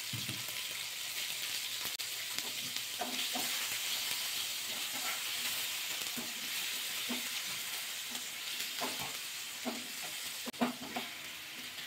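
Tomato cooking in hot mustard oil with dried red chilli and bay leaves, a continuous moderate sizzle and hiss with repeated soft scraping as the pan is stirred.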